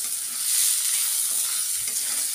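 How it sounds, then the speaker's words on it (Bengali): Soaked rice frying and being stirred in a pan for muri ghonto, a steady close sizzle with soft scraping from the stirring, continuous and fairly loud with no talk. "চালটা ভিজিয়ে এরকম করে ভাজবে"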